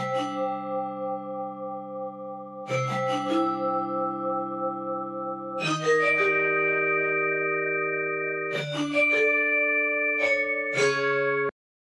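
Sustained synth chords blurred into a smeared, echoing wash with FL Studio's Edison, each new chord entering every few seconds, ringing steadily, moderately soft, with no voices.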